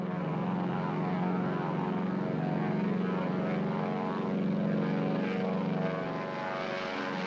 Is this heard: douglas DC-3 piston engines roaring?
yes